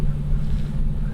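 A Nissan Laurel with an RB20 engine runs at a steady idle, a close, continuous low rumble with a smooth, even tone and no voices over it.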